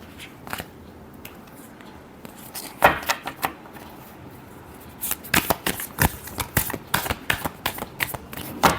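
A tarot deck shuffled by hand at close range, with repeated bursts of crisp riffling and card slaps that grow more rapid toward the end.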